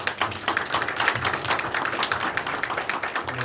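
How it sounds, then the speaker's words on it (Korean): A gathering at a Yangpyeong county event claps for a section chief and a team leader. Moderate, fairly sparse handclaps patter at an uneven rhythm from a smallish group, with no voices over them. "박수 한번 좀 부탁드립니다"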